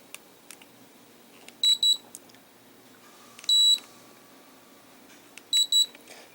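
Short, high electronic beeps in quick pairs from a Toshiba air conditioner control board buzzer, repeated in three separate bursts, with faint clicks between them against a quiet background.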